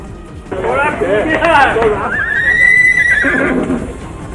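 A ridden horse gives a loud, rising and falling whinny that runs for about three seconds, with clip-clop hoofbeats and faint crowd babble around it.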